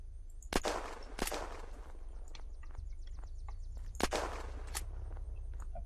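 Shots fired at a car in Unturned: a few sharp, separate cracks at irregular intervals over a steady low rumble, with lighter clicks and taps between them.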